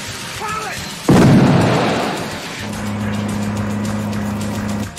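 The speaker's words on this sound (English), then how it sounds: "The tank is gonna blow." A tank blowing up in a 1986 Vietnam war action film: a sudden loud boom that rolls off over a second or so, followed by a steady engine-like hum with a sustained tone.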